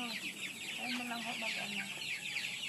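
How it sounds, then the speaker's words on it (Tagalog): Chickens cluck repeatedly at moderate distance, short choppy calls overlapping in a busy farmyard, with faint background voices. "Mga manok. Mga manok."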